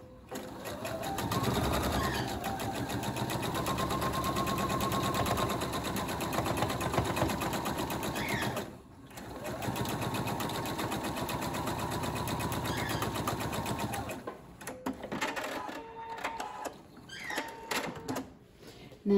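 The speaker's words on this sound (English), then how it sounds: "So just sew a quarter of an inch, as we've done before." A sewing machine runs in two long continuous bursts as it stitches a quarter-inch seam joining two quilt pieces, its steady whirring motor drone broken by a short pause, then a few handling clicks afterward.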